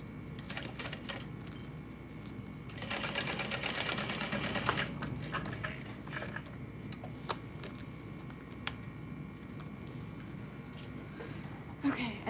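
A sewing machine stitches the bottom pleat of a Minni backpack, a steady run of needle chatter that swells louder midway, with a few sharp clicks and a voice talking over it.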